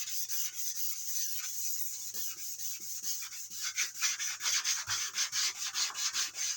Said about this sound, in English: So you sand with the grain. And just take your time and just take the top off.